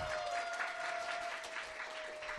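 An audience at a business lecture applauds itself on cue, a steady wash of clapping at moderate volume that holds for a couple of seconds, with a sustained tone running underneath.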